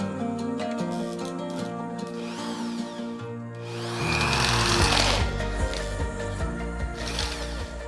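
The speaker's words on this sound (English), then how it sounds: "let's change the drill bit, slightly bigger one" Power drill boring into a flaky old original plaster wall with a slightly bigger bit, with a quieter whirring start followed by a louder, rougher grinding bite into the plaster.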